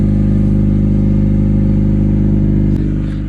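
A Honda Civic engine with no muffler runs steadily, a loud, constant low droning rumble with no one talking over it.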